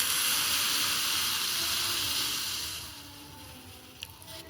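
Fried egg and chicken tadka with water just added to the hot pan, a strong steamy hiss that gradually fades to a quieter simmer, with a couple of small clinks near the end.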